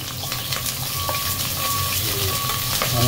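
Garlic fries in hot oil with a dense, constant sizzle and spatter, close up and loud, with light stirring beneath it.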